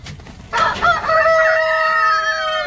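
A rooster crows once, close and loud, a long drawn-out call that rises and holds before trailing off.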